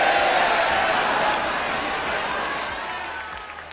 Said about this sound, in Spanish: El público está en carcajadas, que son incluso más fuertes que los aplausos